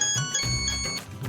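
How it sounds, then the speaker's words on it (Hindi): A mobile phone rings on a Pakistani TV comedy set, a steady electronic ringtone with sustained, bright tones that holds for just over a second against a close, roomy background. "फोन बजा दे मुझे।"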